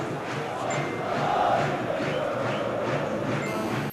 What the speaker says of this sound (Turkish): tezahüratları ile takımlarını muhteşem bir şekilde desteklediler